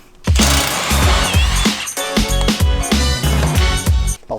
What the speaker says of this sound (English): we're going to use an 18mm socket to take off the 3 bolts holding on the transmission skid bar